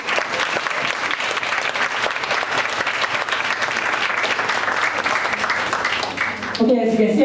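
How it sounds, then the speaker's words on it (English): Dense, sustained applause from a large audience fills a book launch, loud and steady throughout before briefly dipping at the end, with a voice starting to speak over the last moment. "Let's give a warm round of applause to my two leaders,"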